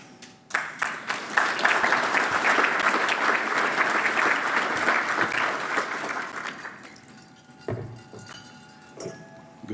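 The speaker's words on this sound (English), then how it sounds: "Good timing on the applause" A crowd of listeners breaks into sustained applause in an indoor hall, clapping loudly for several seconds before it thins out into a few scattered claps.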